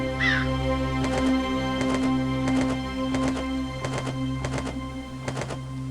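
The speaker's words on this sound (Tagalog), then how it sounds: "ang malungkot na puting uwak na si Waray na piling manirahan sa lugar ng mga tao" A rare white crow cawing in a wild setting among people, a series of about eight harsh caws in a loose rhythm over a steady low hum, with a brief higher call near the start.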